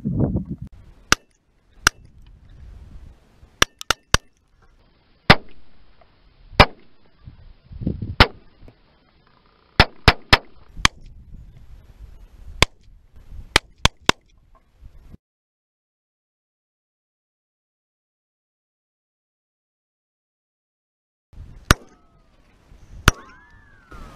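Sharp, separate gunshots with bullets striking a bowling ball, coming in scattered single and paired cracks through the first half, then a long silence and a few more shots near the end.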